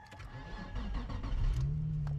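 A Nissan 350Z engine cranks briefly and catches, then settles into a loud, steady idle close by, with no talk over it.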